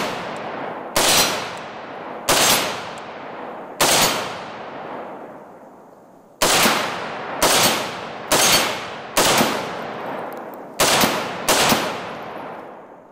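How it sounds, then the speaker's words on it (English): Nine loud, sharp rifle shots from an FN SCAR 17S .308 carbine, fired singly at uneven intervals outdoors, each crack followed by a long decaying echo, with a longer pause partway through. "I would say it's probably the kickin'est 308 I've ever fired."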